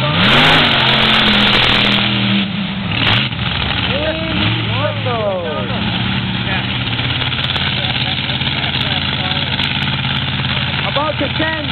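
A monster truck engine revs hard and loud at an outdoor 4x4 show, rising and falling through several throttle blips before settling into a steady roar; an announcer's voice carries over it through a PA.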